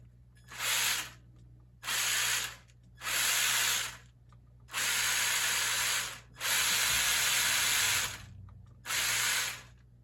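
A Traxxas TRX4 RC car with a burning, smoking motor gives off loud bursts of harsh hissing, six separate spurts of roughly a second or more each, divided by short quiet gaps, with no talking.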